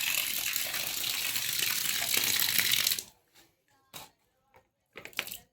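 Water gushes steadily from a tap fed directly by the village panchayat supply line, bypassing the tank, for about three seconds, then stops, leaving a few scattered knocks and clicks in the quiet.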